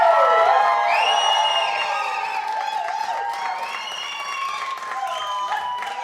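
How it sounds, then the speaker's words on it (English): Audience applause and cheering for a live mariachi band, sustained and fairly loud throughout, with whistles and voices mixed into the clapping. "Y'all give one more round of applause for this excellent band"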